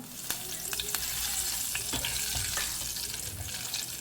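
Curry leaves frying in hot oil for poha chivda, a continuous close sizzle with a few sharp crackles and pops as they hit the oil, moderately loud, no talking.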